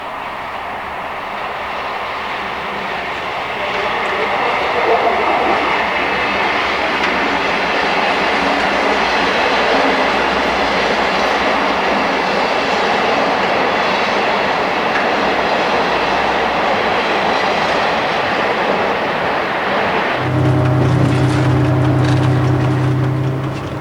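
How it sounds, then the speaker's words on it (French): X2700 diesel railcar set, three synchronized engines, accelerating hard at full throttle toward 1500 rpm with hydraulic transmission shifting smoothly; a steady loud rumble and rail noise run throughout, with a strong low engine tone rising near the end. "Accélération maximum. Le moteur monte à 1500 tours et grâce au convertisseur hydraulique, la boîte change automatiquement les rapports sans aucun à-coup"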